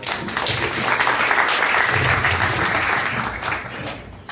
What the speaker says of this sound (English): Tuhin, can you have a loud round of applause?